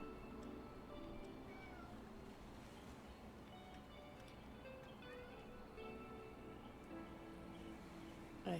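A house cat meows repeatedly at a closed door, its calls fairly close and clear over a steady low background hum.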